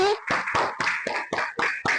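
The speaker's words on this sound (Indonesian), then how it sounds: "sekarang kita beri tepuk tangan untuk kelompok kelinci" A primary school class claps for a student group in a short burst of rhythmic, evenly spaced hand claps mixed with young voices chanting along.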